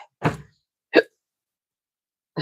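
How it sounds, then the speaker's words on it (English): Three sharp, close hiccups from a woman in a kitchen, spaced irregularly across a few seconds with silence between them. "I got the hiccups."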